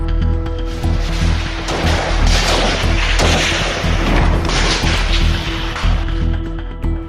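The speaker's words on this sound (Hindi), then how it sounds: "उस दौरान वो फायरिंग शुरू करते हैं।" Loud, rapid gunfire during a Naxal conflict battle in Bastar, with shots and heavy booms overlapping in a dense, continuous volley over a deep rumble.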